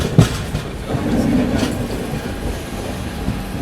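The New Delhi–Patna special passenger train runs on the line toward Pandit Deen Dayal Upadhyaya Junction, with a loud, steady rumble of wheels on rails and a sharp clack near the start.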